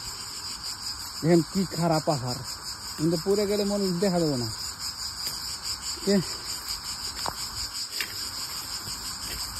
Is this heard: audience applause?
no